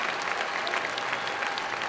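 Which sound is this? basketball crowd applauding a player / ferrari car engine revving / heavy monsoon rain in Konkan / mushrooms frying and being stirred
basketball crowd applauding a player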